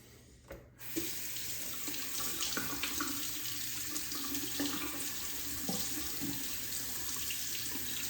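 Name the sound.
water running while rinsing shaving razor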